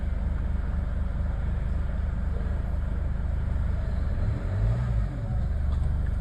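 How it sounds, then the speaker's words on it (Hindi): A Chevrolet Cruze engine runs at a steady idle after a push-button start, a constant low droning hum with a faint brief swell near the end, close and alone with no talking. "आप लोग देख सकते हो इसका इग्निशन भी आ गया और हमारी गाड़ी भी स्टार्ट हो चुकी है"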